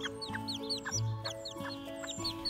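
A Serama hen with newly hatched chicks makes low repeated clucks under rapid, high peeping from the chicks, all close by and with no talk.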